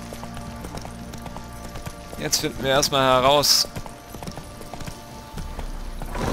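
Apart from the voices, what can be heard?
horse galloping hooves in The Witcher 3 video game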